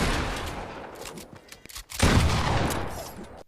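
Rapid gunfire and explosive blasts, including a bazooka shot, ring out in a Fortnite battle, with one sharp burst followed by a loud, sustained roar of shots that fades near the end.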